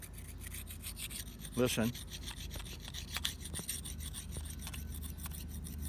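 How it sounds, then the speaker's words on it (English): A new Buck knife edge sawed back and forth on a rock, producing close, gritty rasping strokes with a brief louder scrape partway through and a short spoken word. "And let's saw on that rock."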